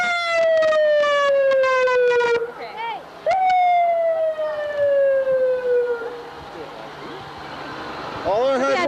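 An ambulance siren wails loudly and close by during a Canada Day parade in Whistler, its long falling tones repeating and briefly cutting out, while people talk nearby.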